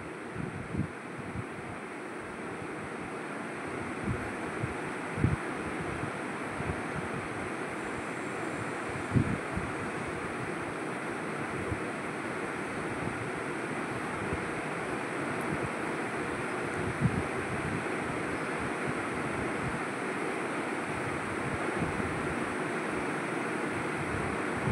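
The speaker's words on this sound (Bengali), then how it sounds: "ফোড়ন বেশ ভালো মতো পুড়ে গেলে এবার ঝোলটা ঢেলে দিব।" Broth poured into hot oil tempered with five-spice and mustard seeds for a vegetarian kulakhara dish, producing a loud, continuous sizzling hiss scattered with small crackles that lasts throughout, with no talking.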